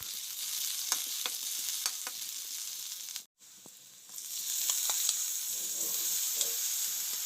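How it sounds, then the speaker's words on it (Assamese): Onions sizzle as they fry in mustard oil in a wok, a steady close hiss with small crackles and pops throughout, broken by a brief silent gap before the frying resumes. "পিঁয়াজ দি দিলোঁ। এতিয়া অলপ ভাজি"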